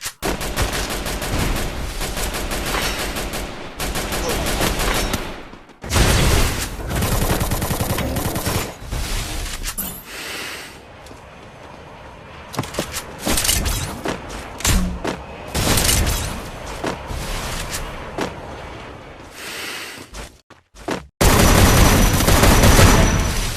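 Repeated gunfire bursts in the mobile battle game Free Fire, loud and close, with rapid automatic volleys and single shots separated by brief quieter gaps during a treasure-hunt match.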